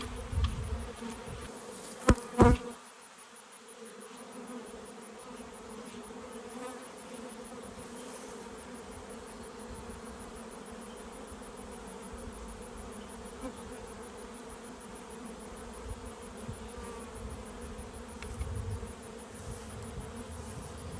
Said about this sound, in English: These bees are not happy about this.